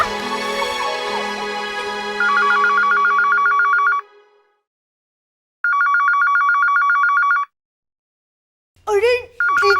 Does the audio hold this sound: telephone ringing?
yes